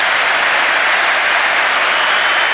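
Rugby World Cup crowd at England versus Tonga applauding after a conversion, a loud, steady wash of clapping and cheering with no speech over it.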